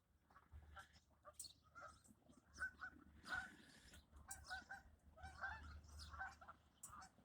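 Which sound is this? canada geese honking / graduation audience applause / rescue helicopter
canada geese honking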